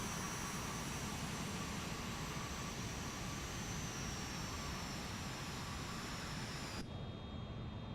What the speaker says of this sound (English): Just gently lower ourselves down onto this runway here. Reduce power slowly.